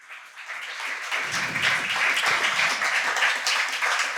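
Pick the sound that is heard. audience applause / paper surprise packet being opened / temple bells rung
audience applause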